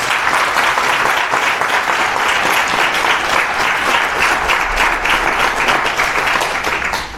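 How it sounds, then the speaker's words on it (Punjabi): A church congregation claps loudly and steadily for God during a Punjabi sermon, a dense, sustained wave of applause that fills the hall for several seconds before easing slightly. "ਜ਼ੋਰ ਦੇ ਨਾਲ ਤਾੜੀ ਵਜਾਈਏ ਪਰਮੇਸ਼ਰ ਦੇ ਲਈ।"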